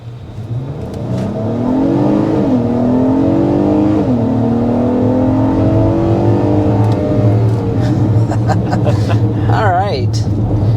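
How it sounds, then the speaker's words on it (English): A refreshed 2025 Acura MDX A-Spec V6 accelerates hard up to 55 mph, its engine note climbing steadily with audible upshifts under continuous road and cabin noise, while a voice talks over it. "Here's a quick acceleration up to 55 miles per hour in the refreshed Acura MDX."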